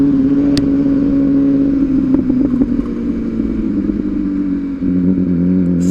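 An MV Agusta SV 1000 Oro motorcycle rides over slippery, bumpy gravel on cold tires, its engine droning loud and steady throughout with faint clatter and crunch from the loose surface.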